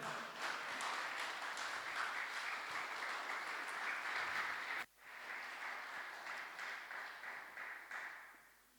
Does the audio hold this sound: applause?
yes